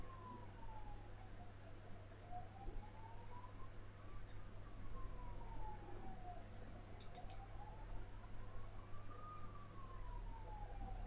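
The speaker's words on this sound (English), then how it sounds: "ambulance is on the way." An ambulance siren outside, faint and distant, with a slow wail rising and falling in long sweeps over a low, steady indoor hum.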